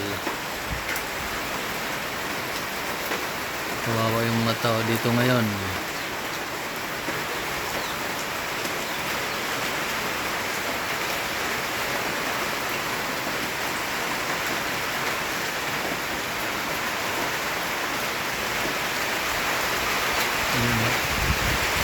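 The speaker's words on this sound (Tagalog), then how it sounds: "Pero walang bagyo yan. Ulan lang talaga." Steady, dense rain pours down throughout, a constant hissing wash of drops in Bicol, Philippines, with no storm; a person speaks briefly near the start.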